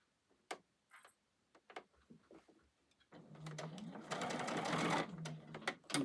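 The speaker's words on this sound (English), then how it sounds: "I'm going to start. I'm going to back tack." A home sewing machine stitches a bowl coozie, first a few faint clicks and handling noises, then a steady whirring run of stitching with a short back-tack pause partway, moderately close and without talk.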